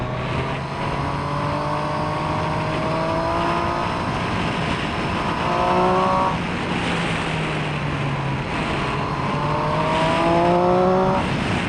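A Triumph Street Triple RS motorcycle on the move, its engine note climbing and dropping through gear changes over a steady rush of wind, close and continuous with no talking.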